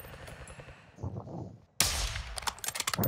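Gunfire in Call of Duty Modern Warfare II's DMZ mode: after a stretch of muffled voices, a loud burst of rapid shots breaks out, followed by further sharp cracks in quick succession.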